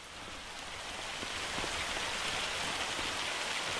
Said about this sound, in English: It's got to be hailstones, right?